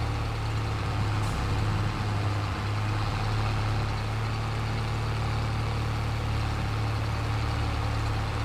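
A tractor engine in Farming Simulator 22 runs with a steady, loud droning hum, a constant low idle-like rumble that holds unchanged throughout.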